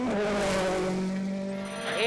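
A Ford Fiesta WRC rally car driven hard on a stage rally, its engine loud and close with a steady high pitch that dips, then rises sharply as it revs again near the end.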